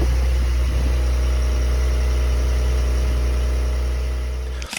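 A Porsche 911 exhaust, a steady deep rumble holding level and loud for several seconds before cutting off abruptly, with no talk over it.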